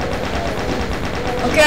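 Rapid, rhythmic gunfire from the video game Doom rattles on without pause, loud and dense, with a voice briefly audible at the end.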